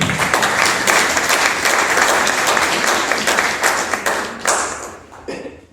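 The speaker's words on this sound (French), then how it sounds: "Veuillez l'applaudir." A conference audience at a World Tuberculosis Day event applauds the session president, dense sustained clapping from a large crowd, loud and close, tapering off near the end.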